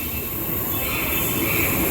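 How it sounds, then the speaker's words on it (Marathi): A Jaipur metro train pulling into the station, a loud steady rumble with high wheel squeal and hum, close and continuous, building slightly as it approaches. "समोर यायला आले, आवाज करत यायला लागले"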